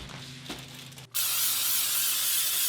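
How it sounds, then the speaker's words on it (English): Cooking spray is sprayed onto a frying pan: a loud, steady aerosol hiss starts abruptly about a second in and continues unbroken, close to the listener, after a quieter stretch of kitchen noise. "Make sure you spray the pan so it doesn't stick."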